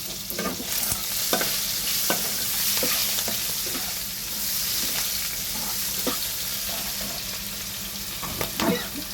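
Chopped onion dropped into very hot oil for a pointed gourd and prawn dish, a continuous close sizzle and crackle with occasional sharp scrapes and clinks of a spatula stirring in the pan.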